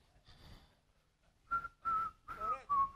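A person whistles a short tune of about four clear, sustained notes, preceded by a softer breathy sound, heard near and alone without speech.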